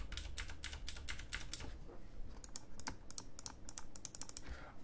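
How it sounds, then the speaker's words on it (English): Keys on a Razer BlackWidow mechanical keyboard click in quick bursts, first a rapid run of crisp taps and then irregular clusters of keystrokes, close but fairly quiet, with no talking. "I'm gonna touch the key on my Black Widow just for a bit."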